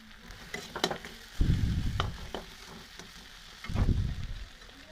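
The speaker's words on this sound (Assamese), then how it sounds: "এতিয়া এই ভাজি থোৱা ৰঙালাওখিনি দি দিছোঁ।" Pumpkin pieces fry in a pan with potato for an Assamese curry, loud bursts of sizzling rising twice as the ingredients are stirred, between softer scraping and clinking.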